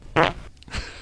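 A fart played on a radio talk show for a guessing segment: one loud, buzzy burst, followed after a short gap by a second softer, lower rumble.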